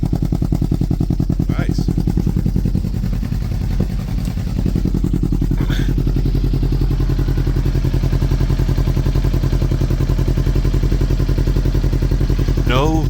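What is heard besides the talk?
Kawasaki Ninja 500 motorcycle engine running after rebuild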